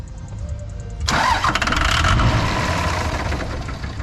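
A car engine fitted with new injectors cranks briefly with a faint whine, then fires and catches with a loud roar that settles into a rough, steady idle, heard close up without talk.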